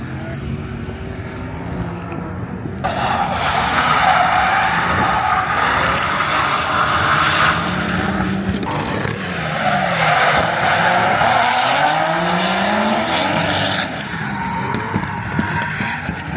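A V8 drift car's engine roars and tires squeal in long skids, the pitch rising and falling as the car slides past, loud and fairly close, at a drift event.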